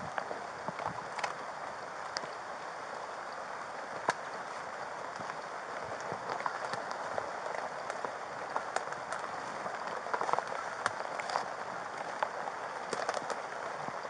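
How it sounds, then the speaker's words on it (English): Steady rain falls in a continuous patter on abandoned Discovery Island at Disney, with scattered drops tapping nearby surfaces; no voices. "Of course, it's raining."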